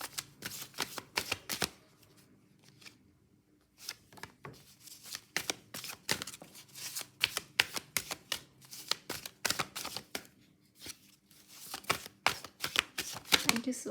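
Angel oracle cards shuffled close by in quick riffling bursts, broken by a short pause early on, then continuing in brisk, repeated flurries.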